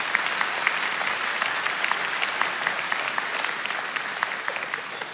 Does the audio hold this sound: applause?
yes